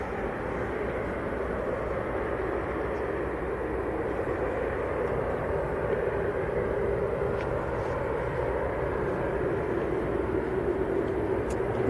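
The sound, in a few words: Qatar Airways airliner taxiing at Manchester Airport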